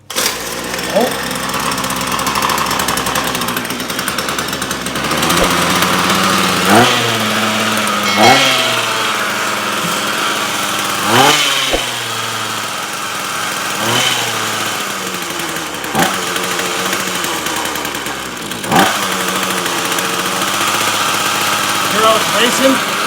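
A Ryobi petrol weed whip engine runs with a raspy buzz, revving up and dropping back repeatedly while being adjusted on the choke, close by, with people talking over it.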